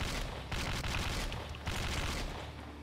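Gunfire in the horror shooter game Slendytubbies 3, loud rapid bursts of shots in close succession, dense and continuous, with sharper onsets near the start and middle and no speech over them.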